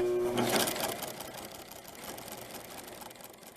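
A sewing machine top stitches double fold bias tape on a baby dirndl, running in a quick burst that then trails off into a quieter, fading whir.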